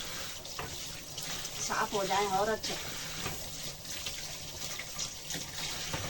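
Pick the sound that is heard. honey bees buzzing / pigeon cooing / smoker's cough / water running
water running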